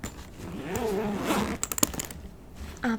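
A zipper on the back pocket of a college backpack is drawn open, a close, soft rasping zip followed by several quick clicks and rustles, quiet and alone with no talk.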